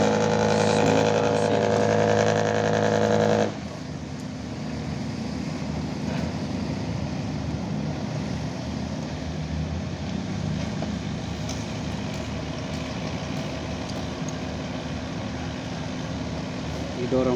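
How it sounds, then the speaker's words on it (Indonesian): A squid fishing boat's engine runs steadily as the vessel leaves Benoa harbour in Bali, a loud low rumble that follows an opening stretch of music-like tones and continues alone without pause. "Kapal cumi berangkat berlayar"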